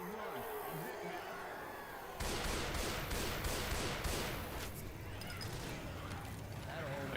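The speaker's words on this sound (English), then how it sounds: "I can't really hear you over the gunfire," Left 4 Dead 2 zombie-shooter gameplay with dense bursts of gunfire, a quieter stretch giving way to loud, sustained rattling shots from about two seconds on, with a voice talking underneath.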